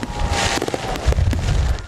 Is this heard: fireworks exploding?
yes